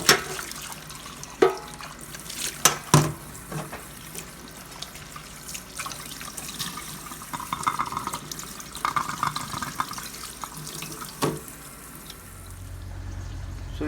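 Tap water runs and splashes over a moka stovetop coffee pot as it is rinsed and scrubbed, a steady close trickle broken by a few knocks and clatters of metal.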